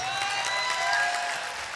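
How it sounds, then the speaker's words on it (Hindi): An audience at an international mushaira breaks into loud, dense applause, a brief continuous burst of many hands clapping close by. "बस एक मरतबा तालियां बजा के मुझे इजाज़त दे दे।"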